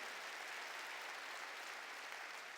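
Congregation in a church claps steadily in praise, an even, unbroken patter of many hands heard at moderate distance.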